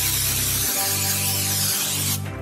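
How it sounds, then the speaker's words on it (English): Cooking spray hisses into a 9x13 baking pan in short, close bursts, a loud airy spray that cuts off and restarts. "We're just gonna spray with cooking spray."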